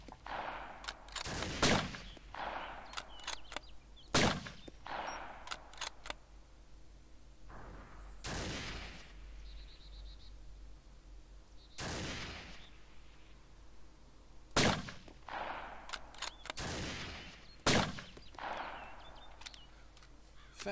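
Gunfire in the DayZ video game: about a dozen sharp, loud single shots spaced irregularly across a long stretch, with quieter background noise and faint voices between them.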